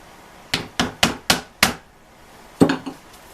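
Hammer blows squish rivets into the relined transmission band of a 1925 Ford Model T: five sharp, close strikes in a steady rhythm, a pause, then a quick cluster of hits.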